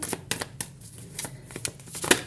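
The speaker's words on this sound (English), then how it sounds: "let me shuffle a little bit more" A deck of tarot cards is shuffled close up in a series of crisp, irregular slaps and riffles, with faint background sound between the bursts.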